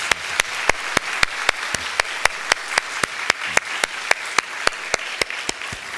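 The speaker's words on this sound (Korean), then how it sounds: "우리 다시 한번 하나님 앞에 영광의 감사의 박수 올려드리도록" A crowd applauds with steady, even rhythmic clapping that holds at a moderate level throughout.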